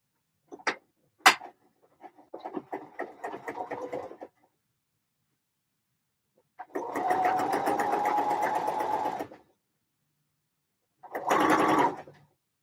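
A sewing machine stitches in separate bursts: a few short stutters, then a longer steady run of several seconds and a final short burst, each close and clear against near silence.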